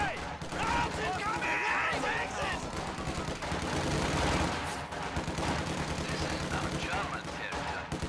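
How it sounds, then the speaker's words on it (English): Machine gun fire crackles in a World War II strategy video game, rapid bursts and scattered gunshots mixed with battle noise under steady fast commentary from a caster. "Machine gun also setting up."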